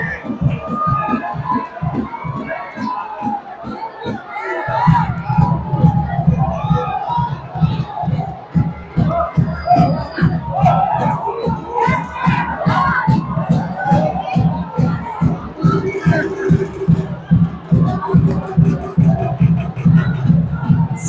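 Football crowd celebrating in a stadium at the São Raimundo versus Real final of the 2023 Campeonato Roraimense, loud continuous cheering and rhythmic chanting with drumming beats, with a commentator speaking over it.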